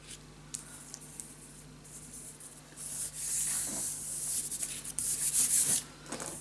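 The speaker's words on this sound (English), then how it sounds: "Burnish it down, and then the rest you just can cut it off." Paper layer being burnished down by hand on a lace mini album page, soft scratchy rubbing strokes that swell louder in irregular bursts, close and quiet with no talk.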